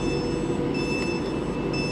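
Avanti West Coast Class 390 electric train at Coventry station, a steady continuous rumble of rolling stock with a faint high whine, heard close and unbroken throughout.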